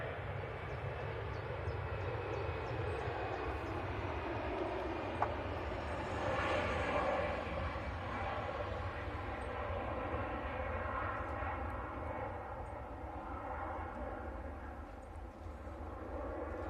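An Emirates airliner taxis and lines up on the runway, giving off a continuous, fairly close jet engine roar that swells slightly in the middle and then holds steady. No one talks over it.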